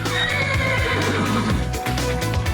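A horse whinnies loudly and close by, with a shaky drawn-out neigh over a rhythmic clip-clop of hooves.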